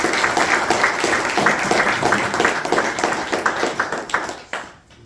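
Audience applause at a round-table event: dense, sustained clapping from a crowd, fairly loud and steady before tapering off abruptly at the end.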